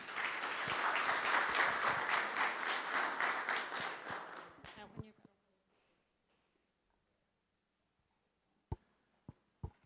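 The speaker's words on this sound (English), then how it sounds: "So big round of applause for our speakers, please." An audience at a chamber luncheon gives a burst of loud, sustained applause that fades out after about five seconds, followed by near silence and a few isolated claps or thumps.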